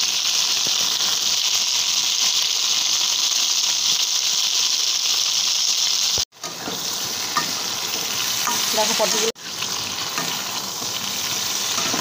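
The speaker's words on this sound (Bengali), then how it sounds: "একটু সময় নিয়ে পটলটাকে ভাজতে হবে" Pointed gourd (potol) sizzles steadily and loudly as it fries in hot oil in a pan, with two brief pauses, and a voice speaks a single word.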